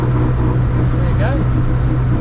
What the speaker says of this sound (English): Doesn't that gearbox sound awful?